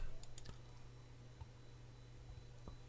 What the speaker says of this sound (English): if we type in WP backup